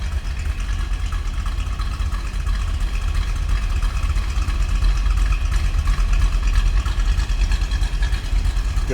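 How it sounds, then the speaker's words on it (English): A 1978 Chevrolet Corvette with its 350 L82 V8 idling up close, a steady deep rumble with a slightly uneven, loping pulse throughout and no talk over it. "A little rumble coming out of this L82."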